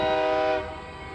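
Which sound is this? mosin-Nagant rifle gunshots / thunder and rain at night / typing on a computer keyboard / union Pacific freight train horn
union Pacific freight train horn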